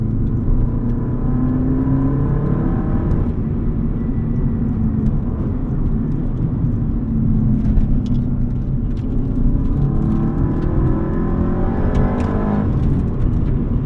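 Loud, continuous engine drone from inside a moving 2003 Subaru WRX STi S202 with an EJ207 engine revving to 8,200 RPM, pitch rising and falling as it revs through gears.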